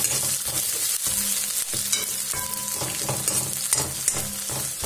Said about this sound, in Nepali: त्यो अदुवा लसुन पिसेको हालेपछि प्याज हालेर हामी भुट्दैछौँ।